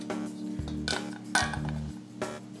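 Wet, strained pumpkin seeds tipped back into a metal pot, with a few close clinks and knocks of metal against metal and brief rattling scrapes.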